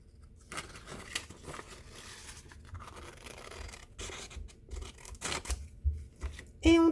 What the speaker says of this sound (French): La paire de ciseaux toujours en avant.